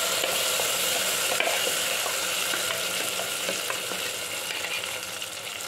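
Spices fry and sizzle steadily in a pan for a horse gram bassaru, with the hiss close and continuous and faint scraping from stirring, fading slightly toward the end.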